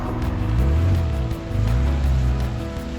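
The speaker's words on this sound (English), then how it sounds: "Proper wet season rain." Steady heavy wet-season rain in Botswana patters over a loud low engine-like rumble while travelling slowly over slippery clay, a dense continuous wash of drops with no voices.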